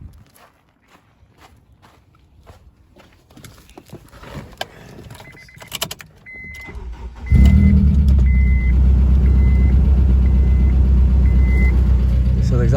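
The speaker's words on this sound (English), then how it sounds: "So it's time to go for a little startup." An Acura RSX Type S with a K24/K20 engine swap, Buddy Club race headers and a no-name exhaust cranks and fires, quiet footsteps and shuffling giving way to a sudden loud, steady idle that holds to the end.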